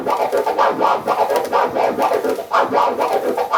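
A DJ scratches a vocal "ah freak out" sample on a turntable in quick rhythmic back-and-forth strokes, loud and close, repeating about a dozen times.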